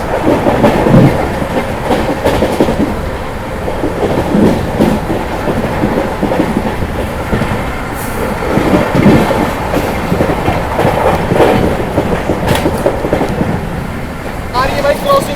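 Amrit Bharat Express 13697 from Gaya to Delhi rolling at 130 km/h with a steady loud rumble and rhythmic clickety-clack of wheels over rail joints, continuous throughout with faint voices now and then.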